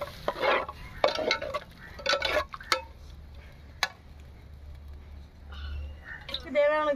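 Masala for an egg curry being stirred and fried in oil in a pan, with scraping stirs and a light sizzle under a person talking, plus a few ticking clinks near the end.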